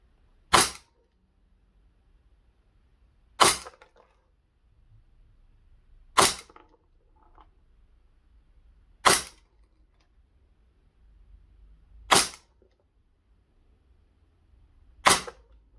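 GHK Glock 17 Gen 3 airsoft pistol fires six single sharp cracks spaced a few seconds apart, each loud and close with near silence between shots.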